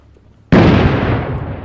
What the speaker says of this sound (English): Does anyone have a grenade? I do. I'll throw it in there.